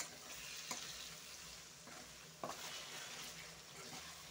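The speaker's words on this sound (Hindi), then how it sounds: "अभी मैं और 2 मिनट फ्राई करेंगे" Chicken curry with chopped tomatoes fries in a pan, a dense continuous sizzle at moderate level with a couple of brief utensil scrapes and clicks.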